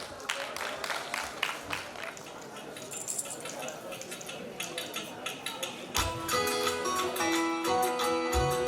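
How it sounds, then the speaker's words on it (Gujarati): Applause for a performer at a sangeet wedding celebration, a crowd's scattered clapping building into fuller, denser clapping before music starts up; people talk around it. "પ્લીઝ એક વખત જોરદાર તાળીઓ થઈ જાય એમના માટે"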